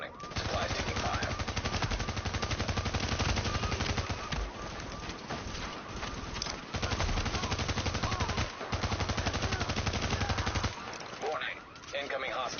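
Sustained automatic gunfire from The Division video game rattles in long bursts with brief gaps, dense and loud throughout, with a short dip near the end.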